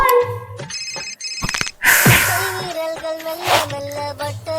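Mobile phone ringtone for an incoming call, a repeating electronic melody that plays loudly and alone, with a brief rustling burst midway before the tune resumes.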